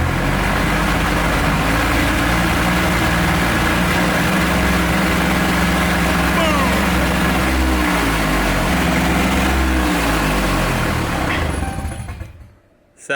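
A car engine with no exhaust fitted idles loudly while warming up, a harsh steady drone with a wavering pitch that runs on for several seconds, then cuts off abruptly near the end.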